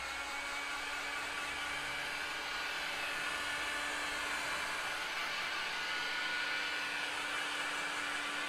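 A heat gun blows a steady, even whir over fresh spray paint on a painting, holding at a constant moderate level throughout with no talking.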